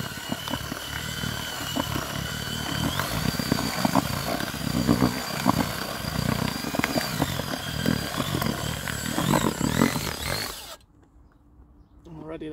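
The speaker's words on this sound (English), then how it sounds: "Again, get the drill." A loud, steady electric drill mixing groundbait whirs and churns continuously for about ten seconds with a rough, gritty texture, then cuts off, leaving quiet room tone.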